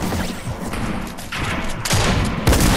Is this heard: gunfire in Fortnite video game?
yes